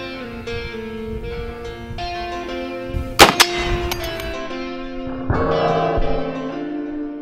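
A BFG-50 .50 caliber rifle fires armor-piercing rounds at a railroad rail, giving a sharp metallic clang and crack near the middle, with ringing tones around it and a second burst of noise later.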